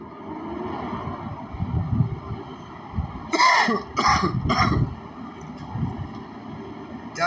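A person coughs and clears their throat in a short burst of three or four harsh hacks mid-clip, over a steady background drone and wind-like rumble.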